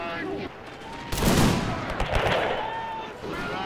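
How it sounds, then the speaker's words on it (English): Martini-Henry rifles fire a volley in a video game battle, a burst of overlapping gunshots over sustained battlefield din, with a voice talking over it. "The Martini Henrys are opening fire."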